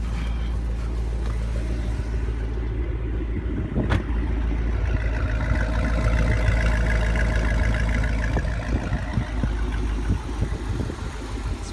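A 2005 Corvette Z51 idles steadily with the hood open, giving a continuous low, throaty rumble that holds even and close for the whole stretch, with no voices over it.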